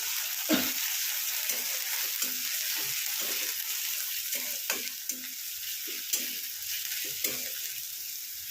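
Green chilies fry in a pan with a steady hiss of hot oil while a spoon stirs them, its scrapes landing at irregular intervals of about a second. The sizzle is close and continuous, with no voices.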